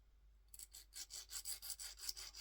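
A hand file rasps the Teflon coating off a fishing hook shank in a quick steady rhythm of about ten close, faint scraping strokes after a brief quiet start.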